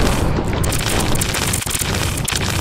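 A flamethrower in the video game Cyborg 3003 roars out a continuous, loud, dense burst of fire that holds steady throughout, with only brief dips in intensity.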